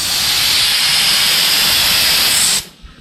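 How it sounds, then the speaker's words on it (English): A small air blast nozzle fed by a compressor set to 90 psi releases a loud, steady, close hiss of compressed air for about two and a half seconds before cutting off abruptly. "So all we did was hooked up the little air blast nozzle to it"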